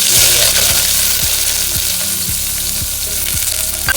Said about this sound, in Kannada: ಎಣ್ಣೆ ಕಾದಿದೆ, ಸ್ವಲ್ಪ ಸಾಸಿವೆ ಹಾಕೋಣ.